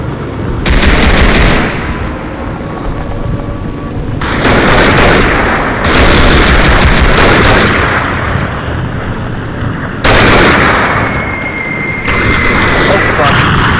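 Loud, close gunfire in Call of Duty: repeated sustained bursts of automatic fire with booming shots, separated by brief quieter gaps.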